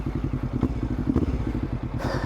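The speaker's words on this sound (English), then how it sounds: "Definitely sounds really rowdy with this exhaust" Honda NX500 motorcycle with a full Black Widow exhaust system and new air intake, running on a Stage 1 tune, idling close up with a loud, lumpy, rapid exhaust pulse and a brief blip of throttle at the end.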